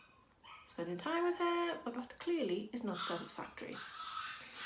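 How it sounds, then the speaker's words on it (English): A new puppy whines and whimpers with rising, yelping cries in the background, fairly loud and persistent, while someone talks over it. "that's my new puppy in the background. She clearly doesn't like to be left."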